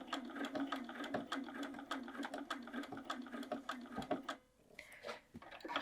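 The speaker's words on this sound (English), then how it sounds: "That makes it a little easier to sew in a straight line." A sewing machine runs steadily, stitching fabric along the weave lines while a bag body and straps are assembled. Its needle chatters rapidly before a short stop and a restart.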